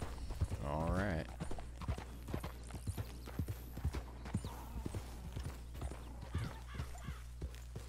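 Horse hooves clip-clop in a steady walking rhythm in the video game Red Dead Redemption 2, close and distinct, with a brief whinny near the start and voices talking over it.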